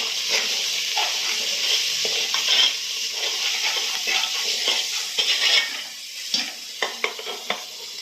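Mutton curry frying in a pan with onion paste and chili powder, giving a bright continuous sizzle, with a spoon scraping and knocking against the metal, growing busier toward the end.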